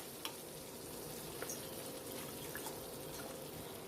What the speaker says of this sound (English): I'm going to put it on simmer and just let it simmer while the roll is getting toasted